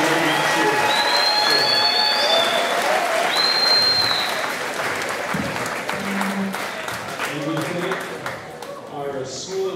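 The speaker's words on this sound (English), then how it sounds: "You can clap for me." Audience applause at a Triton High choir performance finale, a dense sustained clapping with some cheers and whistles that slowly fades, while a presenter speaks over it.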